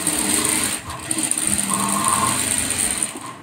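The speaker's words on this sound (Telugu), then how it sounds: "ఇట్లాగే ఒక కుట్టు వేసేసుకోవాలి." A sewing machine stitching a blouse makes a fast, steady whirring and clatter that runs almost without a break, with a brief dip near the start. It is close, loud and alone, with no voices.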